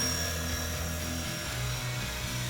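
A size-450 radio-controlled UH-1 police helicopter flies overhead with a steady, loud rotor and motor drone, carrying a constant whine above a throbbing low hum throughout.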